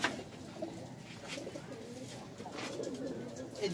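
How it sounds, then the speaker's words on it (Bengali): Local pigeons in a loft coo softly and steadily at close range, a low murmuring chorus running throughout with a few brighter wing or call accents, over faint background noise. "ডলার ভাই তো সব লোকাল কবুতরই পালেন?"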